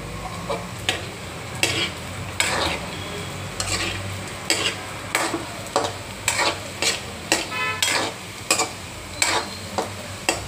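Modak sweet dumplings deep-frying in oil, a continuous bubbling sizzle punctuated by repeated sharp clinks and scrapes of a utensil against the pan.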